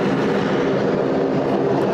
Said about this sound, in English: We'll just narrow down on our Rex Saab here. Always the noisiest aeroplane on the field,